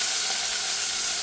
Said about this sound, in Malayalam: കടുക് നല്ലോണം പൊട്ടണം.